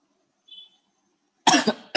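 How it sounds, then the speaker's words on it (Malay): A teacher gives a short, close cough, a sharp double burst followed by another quick one, in an otherwise quiet room. "Sorry, cikgu batuk sikit."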